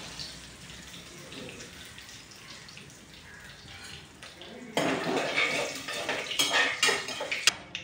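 Curry leaves being tossed and stirred in a pan while cooking pudina rice, soft scraping and clinking of a metal spoon against the pan, faint at first, then louder and busier near the end, with no voices.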